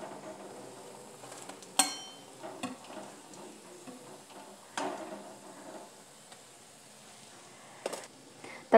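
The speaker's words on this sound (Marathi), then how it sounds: "तर अशा पद्धतीने हे आपण सगळे तळून घेऊयात" Coconut biscuits fry in hot oil, a soft low sizzle broken by a few sharp clinks and scrapes of a utensil against the pan, close but quiet.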